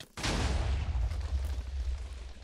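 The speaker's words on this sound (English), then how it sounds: "the explosions just get in the way and make it harder for me" A fireball attack explodes in the Minecraft Naruto Mod, a sudden loud boom that rolls into a long, rumbling roar lasting several seconds.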